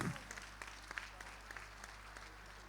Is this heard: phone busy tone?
no